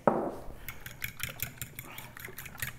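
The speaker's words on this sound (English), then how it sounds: "next I'm going to whisk up the eggs" Eggs being whisked in a bowl for French toast waffles, a quick run of light metallic taps and scrapes in an irregular rhythm, close and fairly soft, with faint household background.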